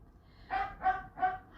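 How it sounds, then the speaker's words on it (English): A dog gives three short barks in an even rhythm, sounding somewhat distant and quiet against a still indoor background. "That Brutus is barking."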